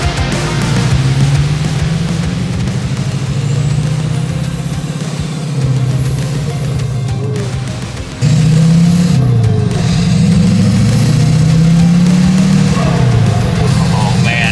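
Jeep Wrangler with a swapped 6.6 Duramax diesel engine, a loud, deep drone close up that climbs and drops through repeated revs and gear changes, briefly easing off midway before surging again.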